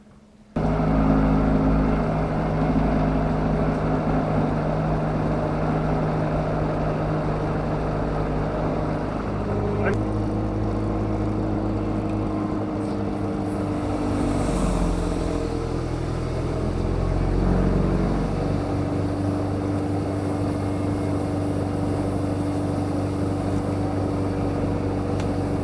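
An SS orchard sprayer engine starts and keeps running, a steady low mechanical drone that shifts in pitch a few times, close and loud throughout.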